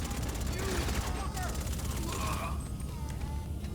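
Rapid bursts of gunfire in GTA V Online rattle continuously over a dense, loud backdrop, with a voice talking throughout.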